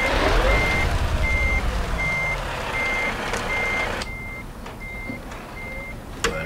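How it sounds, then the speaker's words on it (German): A truck in Euro Truck Simulator reverses with loud, evenly spaced backup beeps, about eight in a row, over a rumbling engine that drops away partway through. "Fahren hier einfach mal rückwärts rauf und drehen dann wieder."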